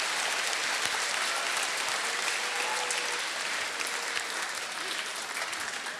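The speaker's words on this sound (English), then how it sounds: "Applaud yourselves." A school audience claps loudly and steadily for several seconds, dense sustained applause from a crowd in an indoor hall, with a few voices faintly mixed in.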